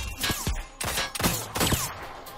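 A P-12K firearm firing in the video game Rogue Company: three or four sharp, close shots spaced about half a second apart, each with a hard punchy crack and a brief tail.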